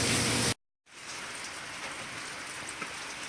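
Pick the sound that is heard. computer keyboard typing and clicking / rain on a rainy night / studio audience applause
rain on a rainy night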